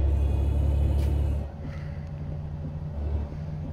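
Peterbilt 389 truck engine sound mod in American Truck Simulator, a steady deep diesel drone that eases off briefly partway through and then holds at a lower, even rumble.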